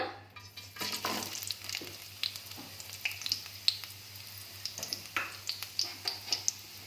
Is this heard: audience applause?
no